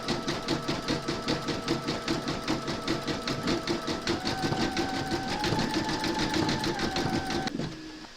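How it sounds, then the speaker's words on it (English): An embroidery machine rapidly satin-stitches over earlier zigzag stitching on in-the-hoop bunny slippers, producing a fast, even, rhythmic mechanical chatter that is close and steady before it cuts off near the end. "we're now going to stitch round number 16, and that's going to do the satin stitching over the top of the zigzagging"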